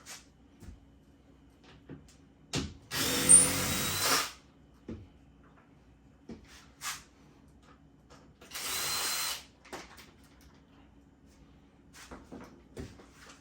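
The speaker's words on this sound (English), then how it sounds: "Now at the bottom there are bolts that you unscrew all the way around, and the top just lifts off." A power drill unscrews the bolts on the casing of an Omtech 50W CO2 laser. Two separate whirring runs of about a second each are heard up close, with scattered clicks and knocks of handling between them.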